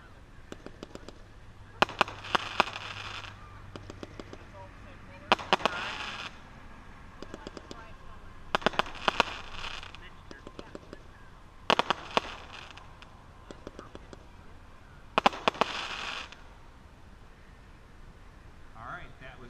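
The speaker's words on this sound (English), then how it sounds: "Last up in the 200 gram aerial repeater section is Jesse James." Jesse James 200 gram aerial repeater fireworks fire in repeated bursts of sharp pops and crackles, with several clusters spaced through the run, heard from a moderate distance at an outdoor demo.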